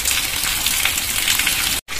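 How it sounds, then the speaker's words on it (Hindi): Heavy rain pours steadily under a dark sky with a motorbike getting soaked outdoors, a loud, dense, continuous hiss close to the microphone with a brief dropout near the end. "कितनी बारिश हो रही है"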